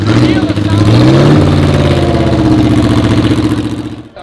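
Porsche 718 Formula racing car engine at the Solitude Revival, a loud, close, throaty roar rising in pitch as it revs, then holding steady before fading out at the end.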